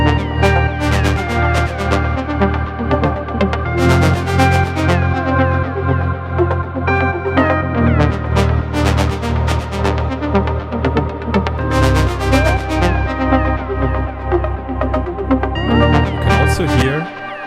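Melodic synth sounds from a Digitone hit by a solo mode bug, layered with Moog and arpeggiated lines in a loud, steady looping pattern with bright bursts recurring every few seconds, no talk.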